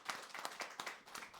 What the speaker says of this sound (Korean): 우리 박수로 극하게 환영해 주세요.